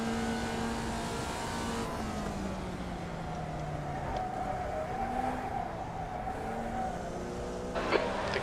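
A Porsche Cup race car in the iRacing sim holds a high, steady engine drone that shifts pitch slightly as it revs, fairly quiet and continuous, ending with a brief clunk.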